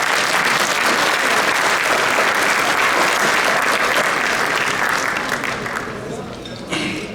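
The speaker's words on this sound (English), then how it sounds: "Please give them a round of applause." Sustained applause from a large banquet audience at a Chicago Islamic organizations' community gathering, dense and steady for several seconds before thinning out and fading near the end.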